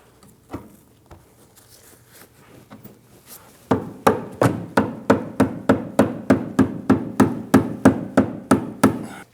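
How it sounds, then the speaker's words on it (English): A rubber mallet taps a front lower control arm into its brackets on a 2009-2017 Audi Q5. A few scattered knocks come first, then a steady run of about fifteen evenly spaced, loud, close blows with no talking. "Using a rubber mallet, we're going to gently tap it into place."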